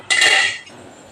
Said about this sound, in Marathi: आता मी याच्यावर झाकण ठेवणार आहे